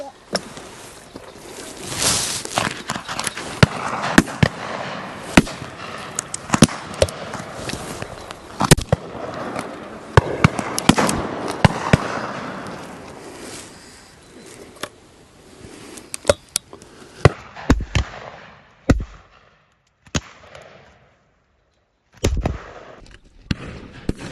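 Shotgun shots ring out at a field sports shoot in Worcestershire: a run of sharp, loud outdoor reports spread over the span, some close and some more distant, with quieter gaps toward the end.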